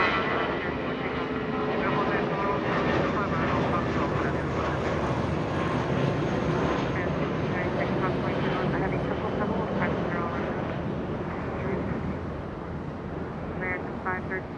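An airliner taking off from runway 25 right at Los Angeles International Airport, a loud continuous engine roar that holds steady and eases slightly toward the end, with a radio voice talking underneath.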